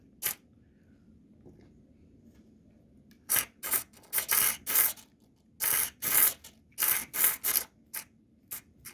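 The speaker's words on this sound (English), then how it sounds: "We have our servo here. It's already freaking out." A faulty servo motor, controlled by a joystick, twitching erratically in irregular bursts of short, buzzy grinding spurts separated by brief pauses over a faint background hum.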